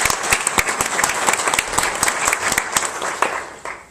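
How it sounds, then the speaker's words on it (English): An audience at a blood cancer conference claps in a continuous burst of close, crisp applause that stays strong before tapering slightly at the end. "So if we can give a round of applause to"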